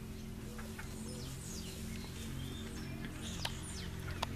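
Rufous-bellied thrush (sabiá-laranjeira) calling near its nest, faint, thin chirps and whistles scattered over a steady low hum, a few sharp clicks standing out toward the end.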